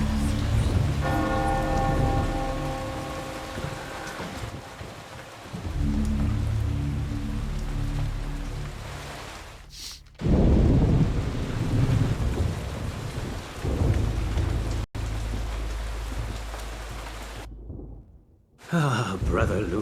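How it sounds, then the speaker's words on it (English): In the video game Eternal Darkness, a church bell rings out through steady rain. Ringing tones open the passage, then give way to rain, low rumbles and abrupt cuts. "Should Paul ring the bell anyway?"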